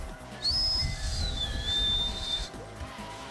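A person whistles a wobbly, sustained tune imitating music from Mario Kart: Double Dash, moderately loud and close, over low room noise and game sounds.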